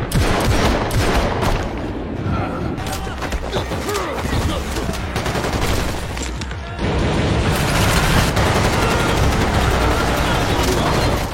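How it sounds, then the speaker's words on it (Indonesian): Dense, loud gunfire rattles continuously in a film shootout, bursts of rapid shots overlapping with crashes and booms, with brief voices mixed into the chaos. "lalu terjadilah tembak-tembakan"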